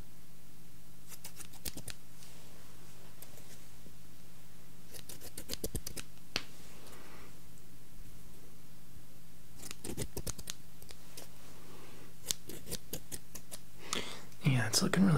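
Scissors snip in short clustered bursts during a close-up ASMR haircut, crisp and near, separated by quiet pauses with a faint steady hum underneath, and soft brushing rustle near the end.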